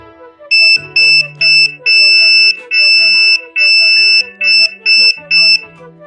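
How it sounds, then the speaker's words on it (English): An Arduino Nano-driven electronic buzzer beeps loudly in a pattern of short and long Morse code tones, an SOS of three dots, three dashes, three dots, with brief gaps between each beep. "the buzzer sound is somewhat loud"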